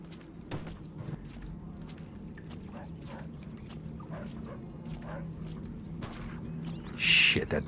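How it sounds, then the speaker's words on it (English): A dog barks and whimpers within the Mafia II video game, brief yips scattered over a steady low ambient hum, with a louder burst near the end. "that dog could be a problem."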